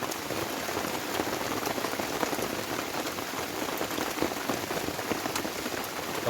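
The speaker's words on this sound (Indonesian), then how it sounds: "Wah, hujan deras ini teman-teman." Heavy rain drums steadily on a camping tent during an overnight stay in the mountains, a dense, continuous patter that holds at the same loud level throughout with no talking.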